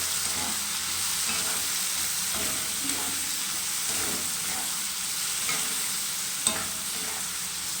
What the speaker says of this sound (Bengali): দেখো পেঁয়াজটা ভাজা হয়ে গেছে ভালোভাবে